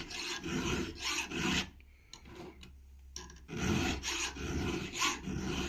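Round file rasping across the cutters of a chainsaw chain in quick repeated strokes, close and alone, with a short pause of faint clicks midway before the steady filing resumes.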